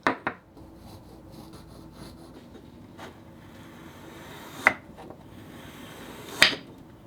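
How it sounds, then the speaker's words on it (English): Grooves being carved into a wooden screwdriver handle: a soft, continuous scraping texture close by, broken by a couple of sharp clicks near the start and two crisp taps later on. "Now I'll carve some grooves into the handle for some grip."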